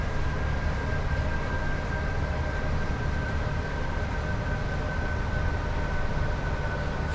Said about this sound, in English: Keep the dynamic brakes going.